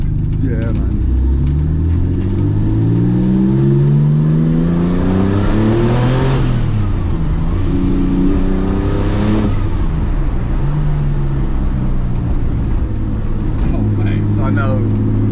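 A Porsche 911 GT2 Evo of the 993 generation with a six-speed gearbox, heard from inside as the engine pulls hard, rising in pitch through the gears with brief drops at each shift, loud and continuous.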